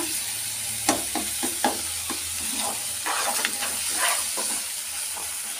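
Masala with boiled tomato fries in oil for a kabuli chana curry, a steady sizzle and hiss punctuated by repeated scraping stirs of a spoon against the pan.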